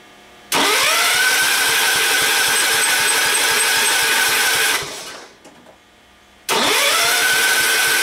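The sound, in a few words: Ford garden tractor engine cranking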